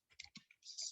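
Several quick, faint key clicks on a computer keyboard as a command is typed, a short close-up burst of tapping heard alone.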